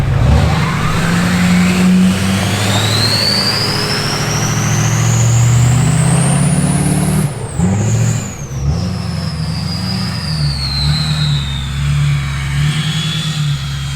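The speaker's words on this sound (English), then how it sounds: "go ahead and hear that RDS turbo sing" A truck engine fitted with an RDS turbo revs hard and steadily, the turbo's whistle climbing high, peaking, then sliding back down over a loud, continuous engine roar, with no voices.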